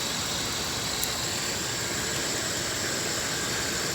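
A 2006 Dodge Ram 1500 Mega Cab engine runs steadily after new valve cover gaskets and spark plugs, a constant close hum with a faint high whine and no talk.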